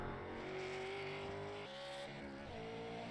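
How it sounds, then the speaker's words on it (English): A super late model race car heads out onto the Milwaukee Mile oval for a qualifying lap, its engine roaring loud and steady with rising pitch, then dropping briefly as it shifts and climbs again. "Robert Barber going out for his qualifying lap there."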